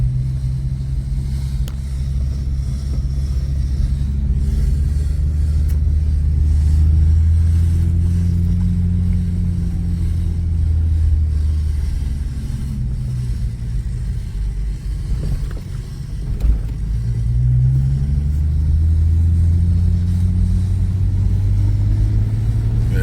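Infiniti G37 sedan engine fitted with quad carbon fiber exhaust tips, a loud, close, continuous low rumble that swells and dips slightly as it idles and revs.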